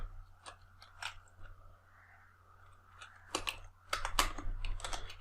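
Scattered keystrokes on a computer keyboard, a few isolated taps and then a denser flurry toward the end, close and fairly quiet over a low steady hum.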